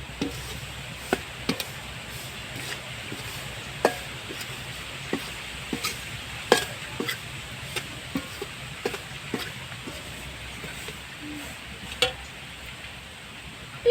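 A metal spoon stirs rice flour roasting in a dry pan for a winter pitha, giving a steady scraping hiss with irregular sharp clicks and knocks as the utensil hits the pan, no talking.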